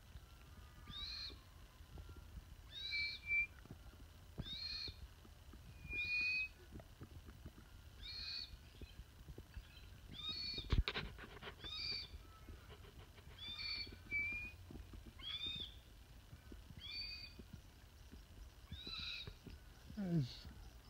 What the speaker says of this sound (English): It's a red-tailed black cockatoo.